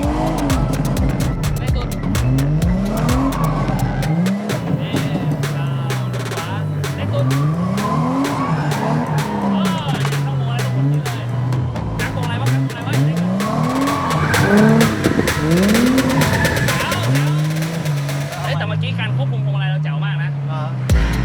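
A drift car swings through a figure-eight, its tires squealing and skidding in long rising and falling sweeps over a loud, steady engine roar, with the squeals repeating as the car changes direction.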